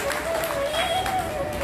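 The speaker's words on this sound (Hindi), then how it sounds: "एक बार तालियों की गड़गड़ाहट के साथ में पूज्य संतों का स्वागत सम्मान।" Applause from an audience welcoming saints at a Bhagavat katha religious discourse, a dense steady patter of clapping filling the short moment, with a faint sustained tone over it.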